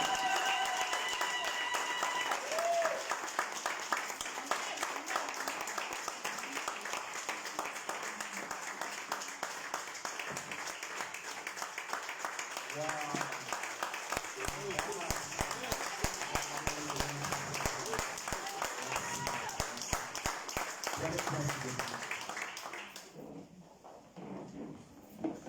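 A church congregation claps and cheers to welcome a visiting prophet at a Sunday service, a long dense wash of applause and voices that carries on for over twenty seconds before dropping away abruptly near the end.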